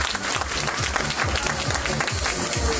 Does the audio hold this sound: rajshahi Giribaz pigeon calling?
no